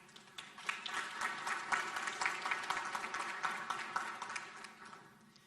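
Sustained applause from a crowd, dense clapping filling the whole stretch at steady loudness with no voices over it.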